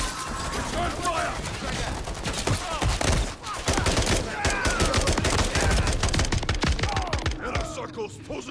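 Dense automatic and single-shot gunfire from a Call of Duty: Modern Warfare 3 campaign firefight, continuous and loud throughout, with sharp cracks over a chaotic battle din and shouted voices.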